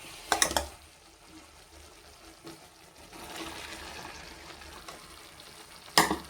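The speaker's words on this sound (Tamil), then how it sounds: "இப்போ நம்ம கத்திரிக்காய் சேர்த்துக்கிறோம்." Brinjal tipped into sizzling tomato masala in hot oil for a Nellai-style kathirikai thokku, with two sharp clattering bursts of stirring and a soft, steady frying sizzle between them.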